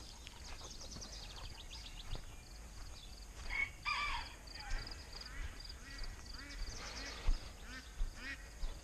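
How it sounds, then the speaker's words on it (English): Ducks quack loudly beside a backyard chicken coop, calling out at an animal caught in a trap; repeated harsh calls come and go in bursts over steady outdoor background noise, with a voice speaking at times. "Well, ducks are over there yelling at whatever we caught."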